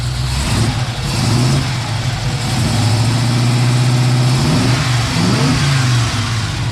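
A Pontiac Firebird engine revs loudly at low-to-mid speed, its steady drone wavering and stuttering as it breaks up in the lower-middle RPM range, rising and falling, with no voices.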